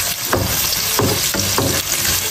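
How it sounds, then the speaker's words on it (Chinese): Pork belly and star anise stir-fry in a hot wok over low heat, giving a loud, close, continuous sizzle broken by periodic scraping stirs of the spatula. "热锅凉油，先炒五花肉，放两个八角， 小火慢慢煸出油脂"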